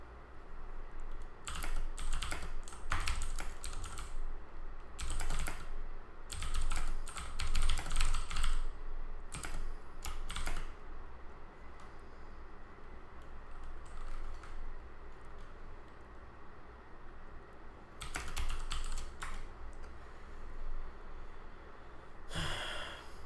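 Computer keyboard typing during a late-night research session, bursts of rapid clicking keystrokes coming and going in clusters, fairly close and steady, with soft breathing and small sighs between runs and no talking.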